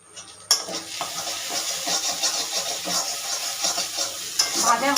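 Shrimp with salted pointed-gourd seed paste sizzles steadily in a pan, close and continuous, with repeated scraping stirs of a spatula.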